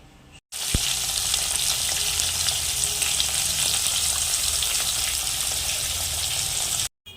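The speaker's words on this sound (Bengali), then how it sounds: "চলো মাছগুলো ভাজতে দিয়ে দিই" Large fish pieces frying in a pan, giving a loud, steady oily sizzle that starts abruptly and holds for about six seconds before cutting off, heard close up with no talk.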